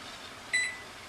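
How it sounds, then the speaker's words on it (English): A single short electronic beep from a kitchen timer going off, over a quiet steady room hum during pickle canning. "Timer has gone off."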